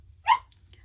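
A small dog lets out a single short, high yip or hiccup-like bark nearby, brief and alone against a quiet indoor background.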